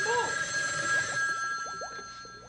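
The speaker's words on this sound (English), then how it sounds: "Oh, the phone is ringing." Telephone ringing in a comedic haunted-house show, a steady electronic bell tone sounding continuously with faint voices and whistly sweeps underneath.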